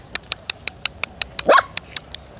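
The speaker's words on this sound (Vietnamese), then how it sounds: "Con bé kia nó sủa quá trời." Forest stray dog giving a rapid string of short, high yipping barks at an even rhythm, with one louder bark-yelp partway through, close by and clear.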